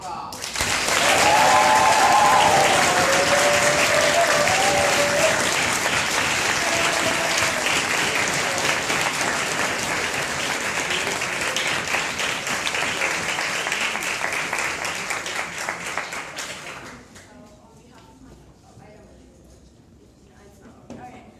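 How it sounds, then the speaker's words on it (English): A crowd at a robotics competition closing ceremony applauds the finalist team, loud sustained clapping with a few cheers early on, continuing for about fifteen seconds before dying away into quiet room tone. "Let's hear a huge round of applause for the finalist team, Forza"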